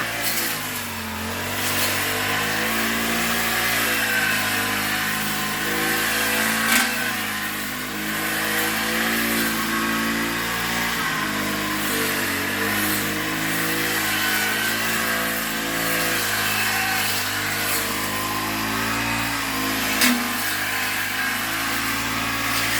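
A steady, loud small engine drones continuously with slight rises and falls in pitch, like a grass trimmer running close by.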